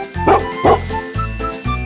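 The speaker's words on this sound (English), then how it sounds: "dog, dog." A dog gives about four short, loud barks in quick succession, close up, with brief gaps between them.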